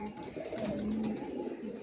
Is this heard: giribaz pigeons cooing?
yes